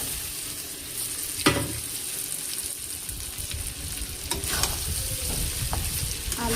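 Potatoes frying with onions in a pan are stirred, giving a steady close sizzle broken by a few sharp scraping strokes, with no voices.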